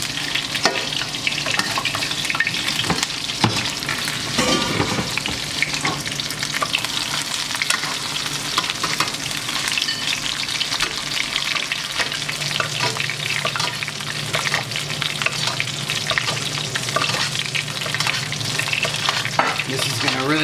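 Sous vide ribeye steaks are basted with fat and butter in a hot pan, an intense, unbroken crackling sizzle with spoon scrapes and spattering, close and loud for the full stretch.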